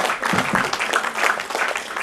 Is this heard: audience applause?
yes